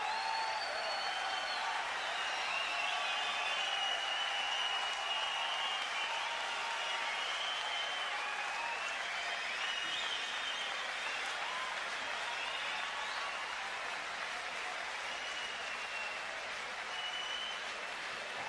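A boxing arena crowd cheers and applauds loudly and continuously after the Ribalta vs Schulz fight ends, a dense, steady roar of clapping and shouting with no break.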